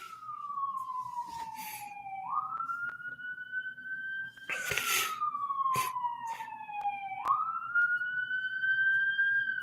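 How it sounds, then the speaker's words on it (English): A police siren wails, rising and falling repeatedly, moderately distant, with a few faint clicks and knocks nearby. "can you guys hear the siren in the background?"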